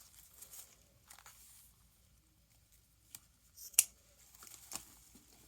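Wreath ribbon tails are trimmed in a quiet room, giving a few faint, brief snips and rustles with one sharper snip partway through and no talk.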